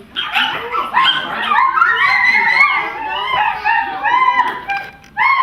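A person imitates a dog with a run of yips, whimpers and barks during a children's yoga session, loud and close with brief pauses between bursts.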